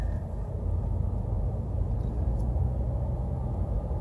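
A 2017 Honda Civic 1.5-litre turbo with a six-speed manual, in economy mode, pulls in second gear at about 2000 rpm under light throttle, producing a low, steady cabin drone and rumble.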